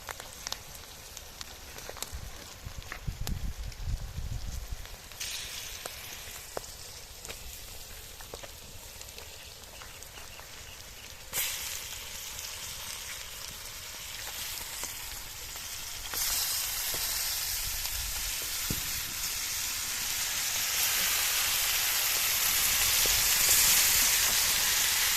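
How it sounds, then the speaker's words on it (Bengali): Chicken pieces for a restaurant-style curry sizzle and fry in a hot pan, a loud, continuous crackling hiss that steadily grows stronger, with occasional clinks from stirring. "এবার আমরা মাংসগুলো দিয়ে নেবো।"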